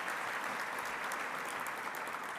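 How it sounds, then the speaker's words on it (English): A crowd at the Chicago and Northern Illinois BBB Torch Awards applauds steadily, a dense, even wash of clapping that holds at full strength throughout. "So give yourselves a round of applause right now for being Chicago's best."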